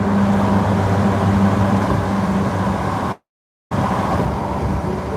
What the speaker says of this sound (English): He went out of his way to get the performance exhaust installed, which is really loud